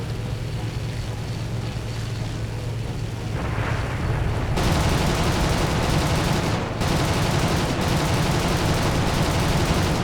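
Aircraft cannon and machine-gun fire from a German BF 109 F-4/trop fighter in War Thunder arcade combat, loud sustained rattling bursts over a constant engine roar, cutting out briefly and then resuming.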